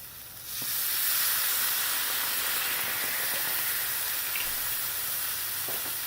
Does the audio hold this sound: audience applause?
no